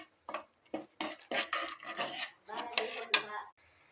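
Ground aval and cooked moong dal being stirred in a pot for sweet aval pongal: a spoon scrapes and knocks against the pot in about a dozen close, uneven strokes, with no talk.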